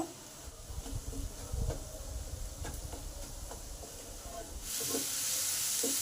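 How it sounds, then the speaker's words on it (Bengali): Chopped onion fries in a pan over medium heat with salt and grated ginger, giving a steady close hiss dotted with small crackles that swells louder near the end; no one speaks. "পেঁয়াজটা পাঁচ মিনিট ভালো করে ভাজবো"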